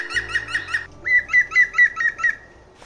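Close, loud high chirps from a woodpecker feeding its chick inside a tree hole come in two rhythmic bursts of repeated calls, four then six, with a short pause between.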